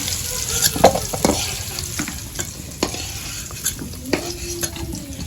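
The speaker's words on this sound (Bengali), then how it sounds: "তেজপাতা দিয়ে দেবে তেলের ভিতরে জিরা দিয়ে দেবে" Bay leaves and cumin seeds crackle in hot oil for a village-style duck curry, a loud, close sizzle broken by scraping stirs and light clinks of a utensil against the pot.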